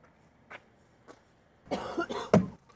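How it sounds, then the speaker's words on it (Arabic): Two faint coughs, then a louder cluster of harsh coughing bursts close to the mic, with quiet gaps between them. "كحة بعد، مرض في مرض في امراض هنا"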